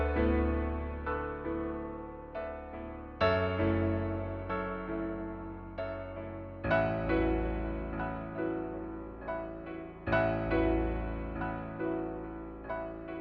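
Keyboard playing a dark suspended-chord melody, sustained notes and chords struck in successive phrases with rich harmonics, loud and close, with no talking.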